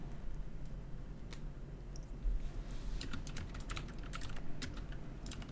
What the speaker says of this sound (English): Sorry if my keyboard is the loudest thing on earth.